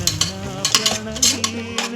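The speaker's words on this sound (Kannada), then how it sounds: "ಶುಂಠಿ ಬೆಳ್ಳುಳ್ಳಿ ಪೇಸ್ಟ್ ಹಸಿ ವಾಸನೆ ಹೋಗುವವರೆಗೂ ಫ್ರೈ ಮಾಡಬೇಕು." Ginger garlic paste frying in a pan for green chicken biryani, soft sizzling under repeated scrapes and stirs of a spoon against the pan, close and fairly quiet.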